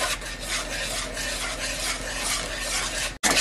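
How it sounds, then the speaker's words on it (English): A spoon works steadily through Dr Pepper chocolate cake batter made from a boxed mix, stirred at a camp cooking setup for a Dutch oven; a continuous close, wet scraping and rasping runs without pause before cutting off abruptly near the end. "And then you're just going to stir it."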